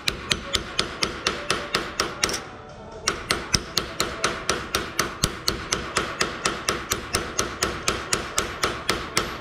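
Steady, rhythmic hammer blows ringing on sheet metal being shaped into a metal rose, close and loud, with one brief pause before the even tapping resumes.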